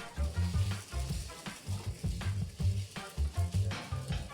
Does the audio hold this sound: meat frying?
yes